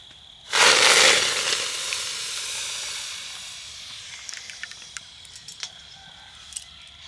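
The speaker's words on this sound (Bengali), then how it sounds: "শুধুমাত্র এই টমেটোর পিউরিটা আমি ঢেলে দেবো কড়াইতে।" Tomato puree poured into a dry, empty wok bursts into a loud hiss on contact. The sizzle slowly fades to a softer crackle, broken by small pops and spits.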